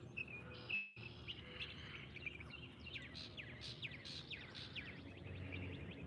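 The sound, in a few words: birds chirping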